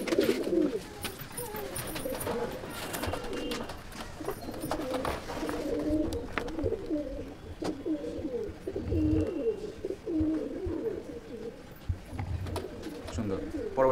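Pigeons coo repeatedly in a home pigeon loft, soft throaty rolling calls close by, going on throughout while people talk in the background.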